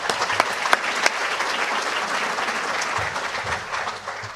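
An audience at a participants' meeting gives a steady round of applause. The dense clapping is fairly loud and continuous and fades slightly toward the end, with no talk over it.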